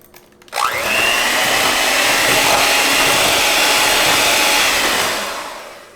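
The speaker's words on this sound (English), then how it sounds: "So I'm going to blend that up till it's nice and soft." Electric mixer blending keto butterscotch cookie dough; the motor starts abruptly and runs as a loud, steady whirring hum for about five seconds, then winds down, with no talking.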